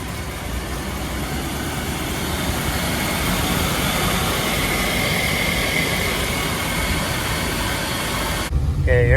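A 1961 Rolls Royce Silver Cloud II on a test drive after a long time not running, a steady low engine and road rumble heard from inside, ending with a brief voice.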